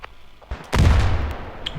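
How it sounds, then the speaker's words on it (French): Grenade explosions and gunfire in the Standoff 2 shooter during a competitive match, heard as a sharp bang followed by a loud, booming blast that slowly decays, with fainter shots before and after. "Une belle grenade qui va connecter encore une fois la double grenade"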